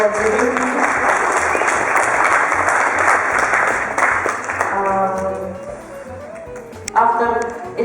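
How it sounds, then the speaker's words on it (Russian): Audience applauding at an art exhibition of Rustam Sakhavatov's paintings at the Dagestan artists' union house, a dense sustained roar of clapping that thins out near the end while a voice begins speaking over it. "аплодируем"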